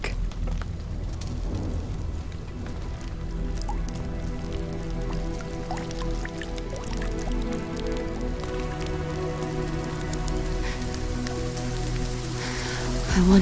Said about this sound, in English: Is this rain?